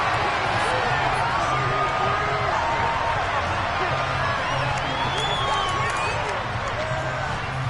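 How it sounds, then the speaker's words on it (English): Football stadium crowd at an NFL game, a dense roar of many voices with scattered shouts and whoops rising and falling steadily, loud and continuous. "Plenty of shouts from this crowd as they watch the replay."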